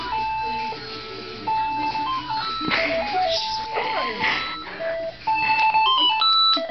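A house phone plays a melodic electronic ringtone, a loud run of beeping tones stepping up and down in pitch, with people talking briefly underneath.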